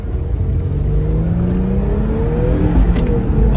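Infiniti G37 with a manual gearbox revving hard under acceleration, a loud steady engine note with rising harmonics that climb in pitch as the revs build, running continuously throughout.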